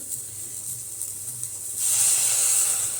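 Water poured into a hot pan of sautéed beans bursts into a loud, steady sizzling hiss that swells suddenly and holds, following a quieter low frying crackle.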